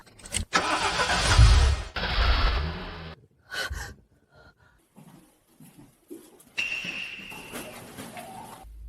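A car engine cranks and turns over loudly, then drops away; later scattered knocks and a renewed rumble with a steady tone rise near the end.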